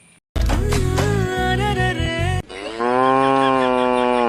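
A cow moos loudly and close by, one long wavering bellow followed straight away by a second sustained, steadier moo.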